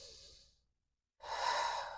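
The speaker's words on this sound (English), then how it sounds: "And then deep breath." A deep breath during a slow yoga flow: a soft exhale trails off into a second of silence, then a strong, airy inhalation swells up close and alone.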